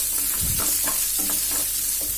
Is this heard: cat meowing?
no